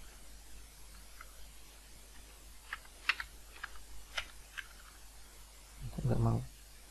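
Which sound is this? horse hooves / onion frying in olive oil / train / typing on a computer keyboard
typing on a computer keyboard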